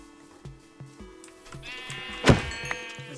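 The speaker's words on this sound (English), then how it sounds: "There's some sheep here." A sheep in Minecraft bleats once, loud and close, with light thumping footsteps ticking along before and after the call.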